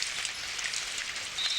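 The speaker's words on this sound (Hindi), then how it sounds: "वाओ, ये तो बारिश है।" Steady rain pattering on a surface, a continuous soft hiss of many drops with no other sounds, moderately loud and even throughout.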